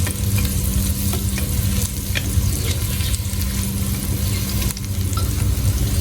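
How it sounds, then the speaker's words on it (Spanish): Chiles frying in a pan for Peruvian bean soup, a continuous loud sizzle over a low steady hum, with occasional faint clicks of stirring, no talking. "Our chiles are nicely fried."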